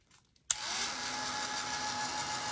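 A handheld dryer switches on abruptly, drying paint on a sunflower painting, then holds a steady loud whirring blow with a faint motor whine, close by.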